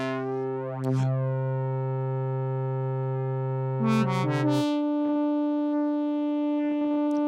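A sustained synth tone with dense harmonics runs through a guitar modulation pedal with short delay time, holding steady, then shifting pitch midway with a brief warbling flutter before settling into a thinner, steady tone.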